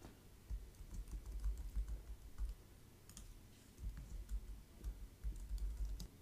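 Someone types a playlist description on a computer keyboard, soft clustered key clicks in irregular bursts with short pauses, quiet and close.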